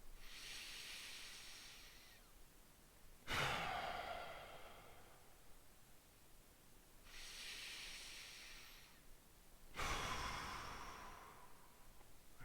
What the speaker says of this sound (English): let's start by taking 3 deep breaths right now